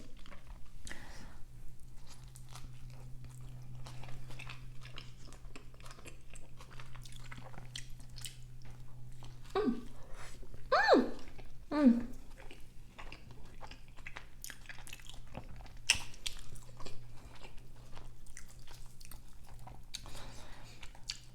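Someone takes close, wet bites of an El Pollo Loco burrito dipped in cheese, with squishy chewing and a few louder crunchy bites in the middle. There is a faint background hum and no talking.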